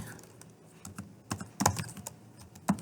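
Python code is typed on a computer keyboard, with quiet, irregular key clicks bunched in short bursts and a few sharper taps, close and fairly soft.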